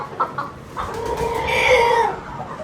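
Desi chickens clucking close by, a few short clucks followed by a longer drawn-out call, fairly loud and clear with no talk.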